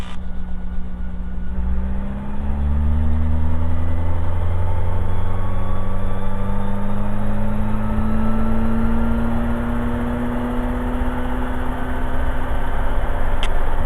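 A helicopter engine runs steadily close by during an overrunning clutch check, its pitch sliding up and down as the speed changes, with a constant heavy mechanical drone.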